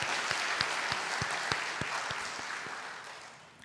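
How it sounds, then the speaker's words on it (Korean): Congregation clapping together during a church worship service, steady rhythmic claps in unison that fade slightly toward the end. "하나님께 영광의 박수 하겠습니다."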